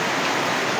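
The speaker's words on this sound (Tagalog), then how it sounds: "Lakas ng ulan dito." Heavy rain pours down steadily outdoors, a dense, even hiss of falling water close by with no pauses and no voices.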